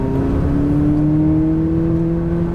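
A McLaren 570S at full throttle on a track course, its engine holding a loud, steady rising drone close to the microphone with no talk over it.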